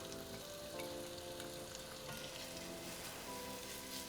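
Chopped onion and jalapeño frying in melted butter in a pan, a steady soft sizzle with light crackling, heard close and alone.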